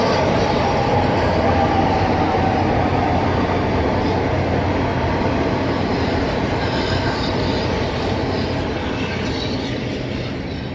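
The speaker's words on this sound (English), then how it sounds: "the 1522 Southeastern high-speed service from St Pancras International to St Pancras International via Ramsgate and Deal" A Southeastern Class 395 high-speed train runs through a station at Sittingbourne, a loud, continuous roar of wheels and motors that fades slightly toward the end, with no voices.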